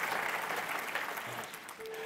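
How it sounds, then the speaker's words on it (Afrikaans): Church congregation applauding after a prayer during a service, a soft, dense wash of clapping at a distance that fades slightly toward the end. "Kom ons gee vir hulle hande klap."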